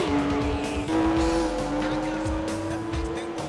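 Kestrel Supra race car in Gran Turismo 4 roaring loudly up through the gears, with a rising engine whine, tire squeal and skidding throughout a short burst of driving.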